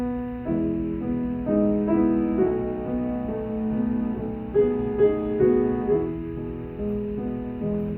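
Solo piano plays a flowing passage of a Chopin etude with a steady bass line under shifting chords and melody, moderately loud and continuous, with no voices.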